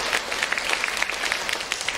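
A church congregation applauds during a worship service, a dense, steady patter of many hands clapping at moderate volume for the full two seconds.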